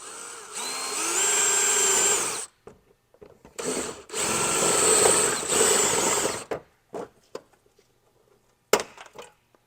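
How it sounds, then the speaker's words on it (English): A power drill with a 3/8 bit whines loudly in two sustained bursts, grinding the head off a plastic clip on a 5th-generation Toyota 4Runner, followed by quieter clicks and scraping handling noises. "We're going to try just using our same 3/8 drill bit to drill the head off of that clip"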